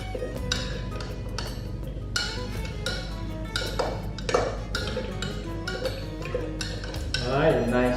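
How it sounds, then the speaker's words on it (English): A sangria mixture is stirred in a pitcher or bowl, with a spoon clinking and ticking against the vessel in quick irregular taps over a steady background hum, close by, ending in a brief swirl. "Right, give it a good stir."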